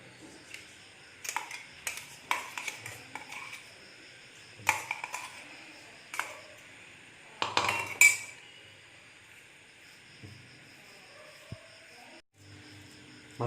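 A spoon clinks and scrapes in a bowl as chicken mince and fried potato are mixed together for chicken pakora, with short, irregular bursts of metallic clatter that are fairly faint and separated by quiet gaps.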